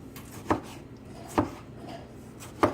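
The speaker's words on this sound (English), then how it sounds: "I'm just cutting it into chunks like that." A knife chopping Roma tomatoes into chunks on a board: three distinct, evenly spaced cuts with soft thuds, close by, over quiet kitchen background.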